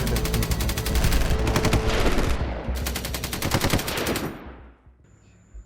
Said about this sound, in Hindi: जंगल की शांति अब बर्बादी और गोलियों की आवाज़ से भर चुकी थी।